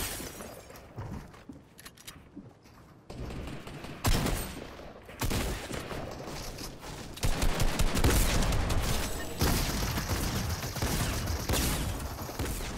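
Rapid bursts of gunfire crackle through a Fortnite match, with sharp shots and breaking-glass crashes over dense, loud game noise.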